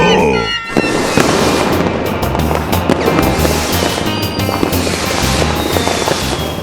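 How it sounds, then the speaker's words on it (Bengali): Cartoon fireworks and rockets burst in a loud, dense, continuous barrage of crackles and bangs. "ওইটা কত বাজির আওয়াজ শুনছি। রকেটও উড়ছে।"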